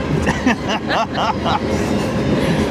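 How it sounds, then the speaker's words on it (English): A train rolls through downtown Rome, Georgia, its steady rumble and wheel clatter filling the street, with brief voice-like bursts riding on top of the continuous noise. "Just when you get started, and there comes the train."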